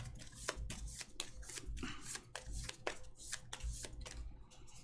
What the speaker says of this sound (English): Shuffle up the red guard.